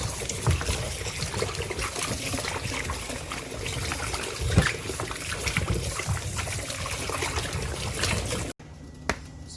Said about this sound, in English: So I'm gonna wash them thoroughly, and then after that I'm gonna cut them up and put it in a pot.